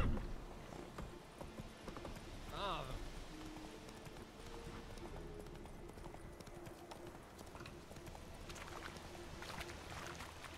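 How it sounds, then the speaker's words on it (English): Horse hooves clopping in The Witcher 3, a steady rhythmic clatter running through the clip under game music and a player's intermittent talk. "Damn horse."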